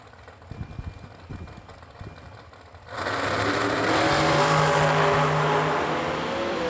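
A dragster launches hard down a drag strip at a bracket race, a sudden roaring engine blast cutting in after a few seconds of low rumble and staying loud and sustained to the end, with no talk.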